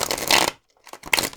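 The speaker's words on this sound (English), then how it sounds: "Well, that was not a good shuffle." Tarot cards riffle and flutter in a close, fast shuffle lasting half a second, then after a short pause a second burst of card shuffling follows, with no talking.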